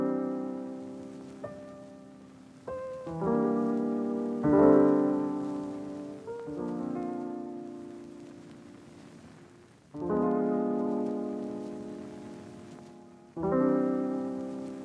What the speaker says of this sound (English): So this is just a standard jazz-ish piano.